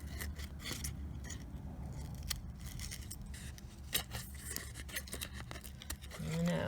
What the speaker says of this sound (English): I'm going to trim all that off.